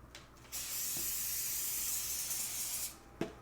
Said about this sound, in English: And I'm going to spray one side first.